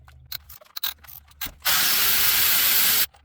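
A ratchet loosens spark plugs on a 2014 Ford Fusion engine, sounding as a few soft clicks and then a steady, dense, buzzing run of pawl clicks lasting over a second, close and alone without any talk.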